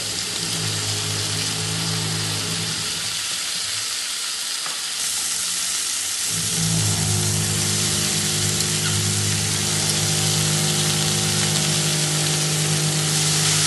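Fresh fenugreek leaves being stirred with onion and tomato in a hot pan in a home kitchen, a steady close sizzle and hiss running throughout, briefly thinning midway before swelling again.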